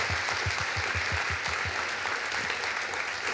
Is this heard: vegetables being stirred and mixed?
no